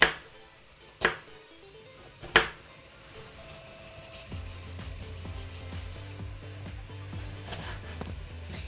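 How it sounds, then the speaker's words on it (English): Onions being chopped into very small pieces on a board while minced meat for samosas dries off: a few sharp, near knife strikes at the start, followed by a steady background hum with scattered light taps. "meanwhile, we have our onions cutting here"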